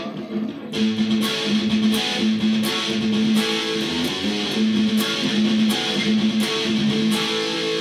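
An electric guitar chugs out a gritty, repeating chorus riff with a steady pulse, dense and loud throughout, with no voices.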